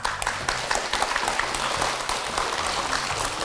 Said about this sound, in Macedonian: Ова заслужува најсилен аплауз.